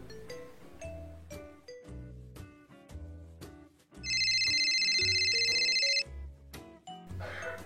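A phone rings with a loud, sustained electronic trill lasting about two seconds, cutting in over a plinking music backing that continues before and after.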